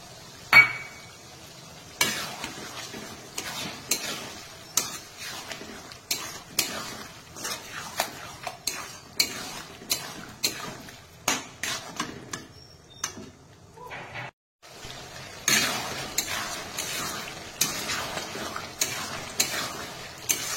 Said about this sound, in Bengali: আদা রসুন পেস্ট দিয়ে বেশ কিছুক্ষণ নেড়ে চেড়ে নিয়েছি